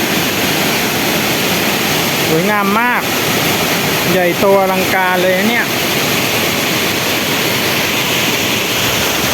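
Mae Klang waterfall below Doi Inthanon roars in a loud, unbroken wash of falling water, while a voice speaks briefly over it.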